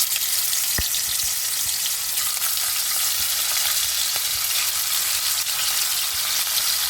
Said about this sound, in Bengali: দেখো তেলটা গরম হয়ে গেছে, এখন আমি আস্তে আস্তে এর মধ্যে মাছগুলো দিয়ে দেবো।